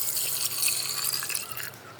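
Water is poured into a pot for Kabuli pulao, two litres added to a kilo of rice before pressure cooking; a steady, close splashing trickle runs throughout with no voices.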